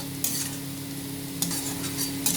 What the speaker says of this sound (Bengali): এগুলোকে ভালো করে ভেজে নেবো